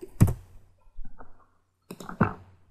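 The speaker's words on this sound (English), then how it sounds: "press U on the keyboard and write X0" Keyboard keys are typed at a computer while ladder logic is entered into PLC software, in two short bursts of close, crisp clicks with a pause between them.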